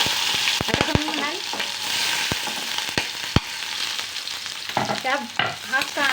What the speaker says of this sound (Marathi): त्याच्यात थोडेसे जिरे टाकते मी आणि ह्या कट केलेल्या भाज्या